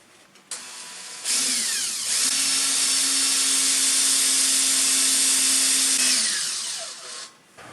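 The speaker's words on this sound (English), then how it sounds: "While I got the pilot holes through, I touched up that 3/16 and went ahead and drilled those." A power drill whirs steadily for several seconds at close range, drilling 3/16-inch pilot holes for a brush guard on a Kubota MX5400 tractor, spinning up, holding a strong high whine, then winding down, with no talking.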